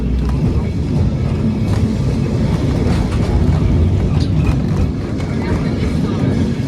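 Low, steady rumble of an electric tram rolling along its overhead-wired line, loud and close throughout with faint clanks on top, as if heard from inside the car.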